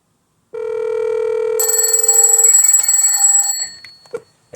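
A rotary telephone rings loudly and alone, a steady bell tone that swells into a harsher, brighter clang for a couple of seconds before cutting off.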